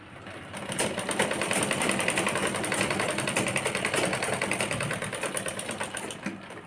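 Sewing machine stitching a fitting on a kurti, a rapid, steady mechanical chatter that starts after a brief pause and runs loud and close for several seconds before stopping.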